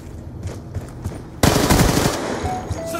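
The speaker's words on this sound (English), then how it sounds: "I just got sniped in the back again." Gunfire in the video game Black Ops 2, quiet scattered shots at first, then a sudden loud burst of rapid automatic fire that continues as a dense, sustained barrage until the end.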